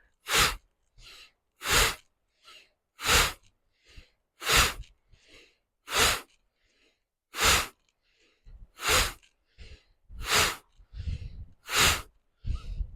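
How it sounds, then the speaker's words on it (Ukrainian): Alternate nostril breathing in a pranayama yoga practice: strong, regular nasal breaths about every one and a half seconds, close and clear, with softer breaths between them and no talking. "Тепер видих вліво, вдих вправо, видих вліво, вдих вправо"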